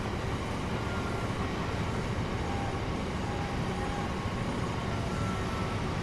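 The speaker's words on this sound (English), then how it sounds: "Well then, another train is coming" A train arriving on a Sunday morning rail journey gives a continuous, even rumble and hiss of rolling wheels that stays steady and moderately loud throughout, with no voices.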